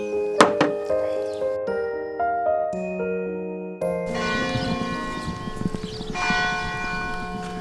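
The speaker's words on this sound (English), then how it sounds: "This bell has been going off every 30 minutes since early in the morning." A church bell in Italy's Cinque Terre rings out in several distinct, resonant strokes with long ringing decay, clear and fairly close, with a dense clang of overlapping tones toward the end.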